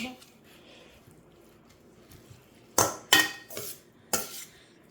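Puffed rice snack being mixed with raw chili powder in a bowl, producing a few sharp clinks and rattles near the end after a quiet stretch with faint speech in the background.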